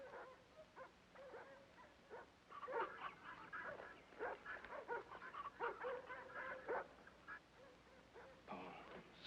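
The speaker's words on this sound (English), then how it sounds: "Somebody in them woods got them dogs all stirred up." Several dogs bark, yip and whimper in woodland, an agitated chorus of overlapping calls at moderate distance, rising and falling throughout.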